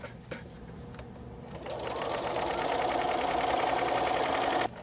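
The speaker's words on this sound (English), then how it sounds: "Sew all the way around, and I'll be back after I'm finished." A sewing machine runs a seam around the edge of a flat sheet with elastic. It starts faintly, then settles into a steady, close, continuous whir, and stops abruptly near the end. No one speaks.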